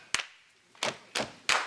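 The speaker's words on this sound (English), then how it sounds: "when they pause, I want you to clap like this" Four sharp, separate hand claps ring out in an uneven rhythm from a boy in a room, each one a crisp slap with quiet between.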